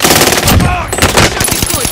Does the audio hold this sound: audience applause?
no